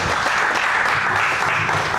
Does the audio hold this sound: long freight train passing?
no